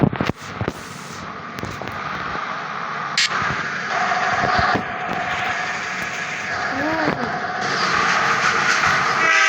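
A train rolls past in an Indian bike driving video game, a steady rumbling rail clatter with clanks and a brief horn-like tone, continuous and fairly loud throughout with no talk.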